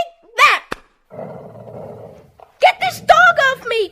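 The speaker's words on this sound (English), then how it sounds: "Get this dog off me." A dog growls and snarls in a drama scene, a sustained rough rumble between an earlier cry and frantic shouting voices, close and loud with people talking around it.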